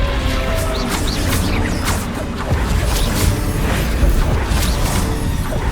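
Bombarda and Confringo spell explosions in the video game Hogwarts Legacy, a loud dense wash of booms, crashes and whooshing magical bursts layered over continuous rumbling game noise.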